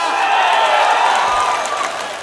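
A large outdoor crowd at a political rally in Chakulia, West Bengal, breaks into sustained clapping and cheering, a loud dense wash of applause that holds steady briefly before tapering off.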